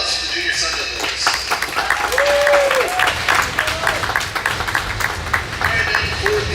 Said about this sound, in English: let's give a round of applause for the Junior Sun Devils.